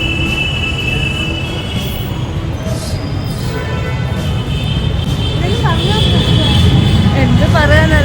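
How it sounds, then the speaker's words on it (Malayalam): A Delhi Metro train runs at Tagore Garden station with a continuous rolling rumble that grows louder. A steady high whine sits over the rumble, and several quick wheel squeals rise near the end. "എന്ത് പറയാനല്ലേ, മെട്രോ."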